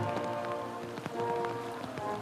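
A heavy downpour falls steadily over crowded city streets in Singapore during a funeral gathering, a dense, continuous hiss of rain heard close and loud throughout.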